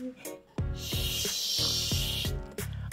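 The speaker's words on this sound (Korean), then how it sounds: "어이구, 뱀이었어요." A sustained, breathy snake hiss rises over a storybook reading with soft background music, swelling loudly for about two seconds before cutting off.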